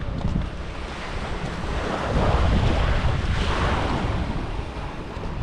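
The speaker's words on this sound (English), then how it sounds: "Perfect sand, fine sand, crystal water." Waves washing onto Nui Bay beach on Koh Lanta, a continuous broad rush of surf mixed with wind buffeting the microphone, swelling louder in the middle and steady throughout.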